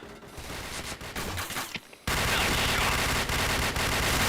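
Rapid gunfire from the online shooter Point Blank, a chaotic burst of shots and effects giving way to a loud, dense, continuous stream of firing that fills the second half.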